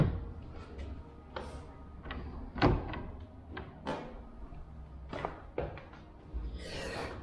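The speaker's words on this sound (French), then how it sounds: "Ça, c'est la poignée de porte." Door handle being worked on a door during a handle replacement: a series of sharp clicks and metallic latch clacks, close and fairly quiet, spaced irregularly with a louder knock in the middle and a brief rustle at the end.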